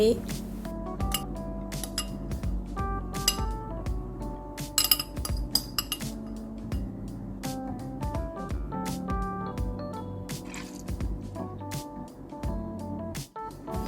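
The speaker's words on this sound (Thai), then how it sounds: "ใส่ลงไปในขวดหรือแก้วที่เราเตรียมเอาไว้" Homemade mango jam spooned into a glass bottle, with light clinks of a utensil against glass scattered through the clip, playing alongside background music and a voice.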